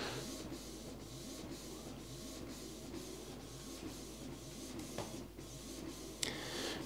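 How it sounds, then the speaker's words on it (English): An inkjet printer prints continuously throughout, a steady mechanical whir and rhythmic shuttling of the print head with small clicks, close and moderately loud, with no voices. "Then this is an inkjet printer."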